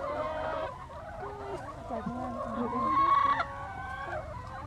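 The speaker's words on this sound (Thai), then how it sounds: "ไก่เขารอคุณแม่กันใหญ่เลย" Chickens kept at a farm, hens and a rooster, cluck and squawk close by in overlapping calls, with one long crow-like note rising in the middle over low background noise.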